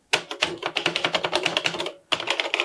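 Rapid, close clacking keystrokes on a Radio Shack TRS-80 Color Computer keyboard, a dense run of typing, a brief pause, then another burst.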